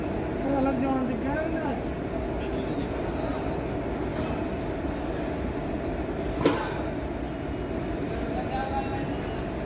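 A Bhuj–Rajkot 09445 daily special train pulls out of platform 1 at Gandhidham Junction with a steady rumble. A brief sharp clank sounds partway through, and someone talks over it.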